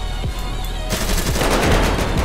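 Rapid automatic gunfire in the video game GTA 5, a quick burst of crackling shots that erupts after a quieter first second and keeps rattling loudly to the end.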